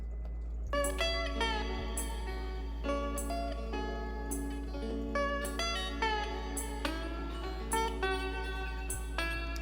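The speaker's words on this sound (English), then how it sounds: "Just like a resonator blues guitar." A resonator blues guitar-style sample from a music production plays alone, sharp plucked notes and short chords with ringing metallic overtones over a steady low hum, moderately quiet and close.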